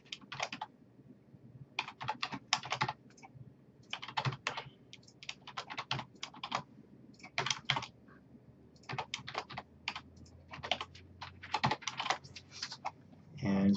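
Someone types an equation into the Desmos graphing tool on a computer keyboard, giving close, quick bursts of key clicks in uneven clusters separated by short pauses.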